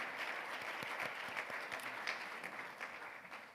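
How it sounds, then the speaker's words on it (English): An audience at a January 2020 prenatal-to-three forum claps steadily for leaders and representatives, a sustained, fairly faint patter of many hands that tapers slightly toward the end. "we want to give a hand of applause to these leaders and"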